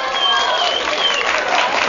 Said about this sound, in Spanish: Fuerte aplauso, por favor, para la quinta candidata.